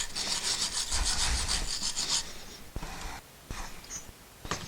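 A wire brush scrubs rust from rear brake parts on a Honda CR-V, with rapid raspy strokes for about two seconds, then sparser scrapes and metallic clicks, close and fairly loud.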